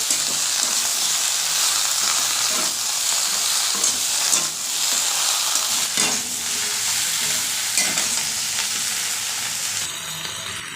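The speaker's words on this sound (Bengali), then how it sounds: "এই সাইডে বেগুন ভাজতে বসিয়ে দিয়েছি বেগুন ভাজি হয়ে গেছে এখন তরকারি বসাচ্ছি" Eggplant and fish curry fries in a pan with a loud, continuous, hissing sizzle close by, with occasional soft stirring scrapes and no voices.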